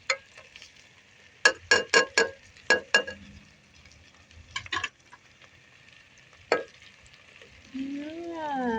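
Home-prepared spices dropped into hot oil and stirred in a pan for Arabian majboos: a quiet sizzle broken by a quick run of sharp scraping strokes, a few softer stirs later, and a brief rising squeak at the end.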